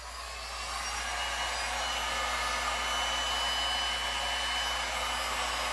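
A heat gun fitted with a wide nozzle attachment blows steadily across the surface of a resin pour painting, a continuous close, loud airflow whoosh with a faint motor whine that swells slightly and holds level throughout.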